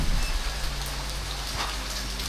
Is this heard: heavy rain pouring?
yes